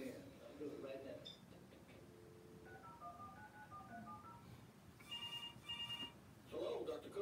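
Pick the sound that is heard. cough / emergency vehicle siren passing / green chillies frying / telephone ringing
telephone ringing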